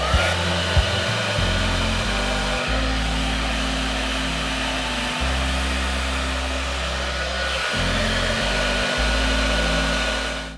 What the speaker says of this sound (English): the volume booster button is on the dryer right under the power button, and you just click it on